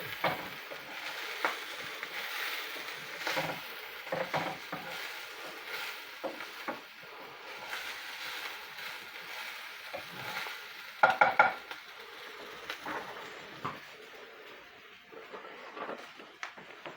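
A flat spoon scrapes and stirs food sizzling in a pan, irregular scraping strokes and clinks over a soft, intermittent frying hiss, close and fairly quiet, with a brief cluster of sharp metallic taps near the end.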